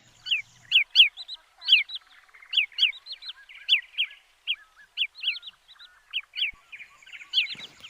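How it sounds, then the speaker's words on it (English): Migrating Pacific golden plovers call in flight over wetlands in Purba Medinipur. Their sweet, clear, rising whistles come in quick pairs and short bursts, fairly close and repeated throughout against a quiet background. "These migratory birds make very sweet call as they fly."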